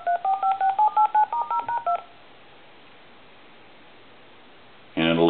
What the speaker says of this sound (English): I'm going to hit the hook switch again, turn it on, and hit redial.